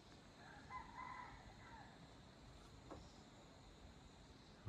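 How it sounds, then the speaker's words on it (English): Roosters and other birds call at daybreak in rural Mae Taeng, northern Thailand, as faint, scattered crows and chirps over steady outdoor ambience, with no talk. "We've been listening to all sorts of great bird sounds while we've been sitting having our tea and coffee in the morning here."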